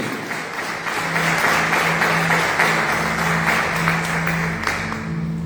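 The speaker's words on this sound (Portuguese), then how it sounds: "Você pode aplaudir o Senhor pela sua palavra?" Church congregation applauding the Lord during a Portuguese-language sermon, a steady wash of clapping that swells after the first second and holds loud and dense throughout, with a low sustained tone underneath.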